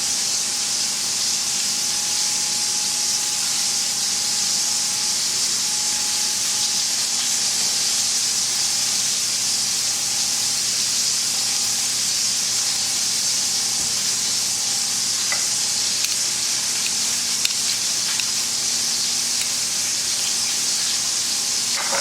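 Pork chops sizzle in a hot pan, a steady, close hiss of frying fat that holds evenly throughout with a faint hum underneath and a few small pops.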